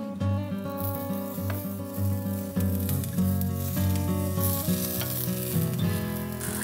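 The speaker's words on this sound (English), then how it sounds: "Let's fry these up." Strips of fatty and lean thick-cut bacon fry in a pan with a steady, close sizzle, largely buried under continuous loud music.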